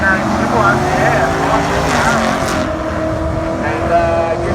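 A car at a street drag race roars loudly and steadily, its engine droning with a continuous rising and falling whine, close to the microphone with a broad rushing background.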